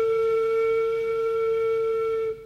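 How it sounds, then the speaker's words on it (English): A flute played by blowing air across the embouchure hole gives a single steady, clear sustained tone with bright overtones, holding evenly for a little over two seconds before cutting off. "Some of the air will go into the embouchure hole, and some will go across the embouchure hole. It sounds like this."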